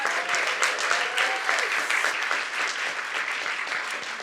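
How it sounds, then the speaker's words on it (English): Audience applause at a Families Bike Brooklyn panel held in a library, steady dense clapping for Kathy Park-Price lasting throughout, with a faint voice briefly audible underneath early on. "Could we give a big round of applause to Kathy Park-Price?"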